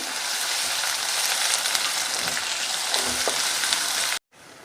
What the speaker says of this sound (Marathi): आणि लगेचच ह्यात आपण जे वाटण तयार केले ते घालायचे आणि वाटण छान तेल सुटेपर्यंत आपल्याला परतून घ्यायचे.